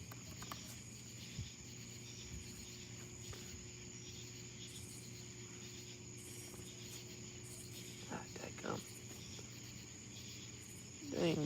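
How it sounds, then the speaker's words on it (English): Crickets chirping outdoors at night during a moon and deep-space astrophotography livestream, a faint steady high-pitched trill running throughout, with a few soft knocks and a brief louder rustle at the end. "Dang bugs."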